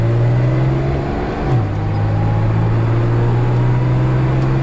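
A 1973 Mercedes-Benz 280 hums steadily from inside the cabin while driving, its engine note shifting in pitch once as the gear or speed changes, loud and continuous with no talk.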